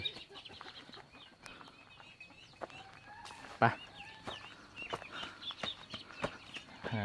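Chickens cluck in a traditional Tai Dam village house setting, with scattered short clucks and faint bird calls at moderate distance under intermittent talking.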